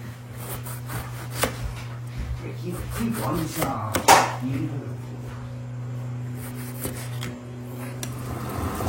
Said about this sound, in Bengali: একটু ভেজে নেওয়ার জন্য চাকচাক করে কাটি।